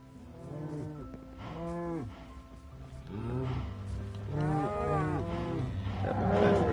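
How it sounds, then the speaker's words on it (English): Cows moo in the video game Minecraft, several drawn-out, deep lowing calls that overlap one after another, loud and close, growing busier toward the end. "Right, let's go breed our cows."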